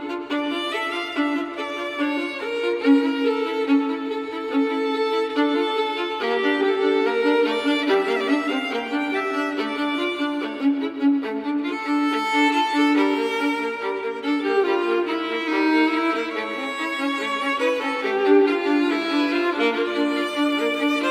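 Two violins play the development section of a violin duet, Op. 98, with continuous sustained and moving melodic lines and no bass, at steady moderate loudness with no voices.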